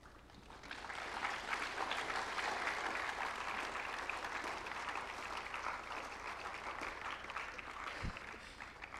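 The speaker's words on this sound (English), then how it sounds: "that clap was for Hinam or was for me" A student audience in an auditorium gives sustained, even applause that swells quickly and carries on steadily at a moderate distance, with a single soft thump near the end.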